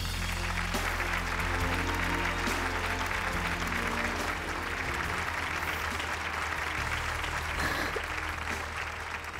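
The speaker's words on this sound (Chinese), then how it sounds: "来，我们掌声欢迎静静。" A television studio audience applauds to welcome a guest on a talk show, with sustained, dense clapping over a low musical bed throughout.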